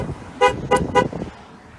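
A 2014 Jeep Grand Cherokee's car horn sounds three short, loud toots in quick succession, close by and alone.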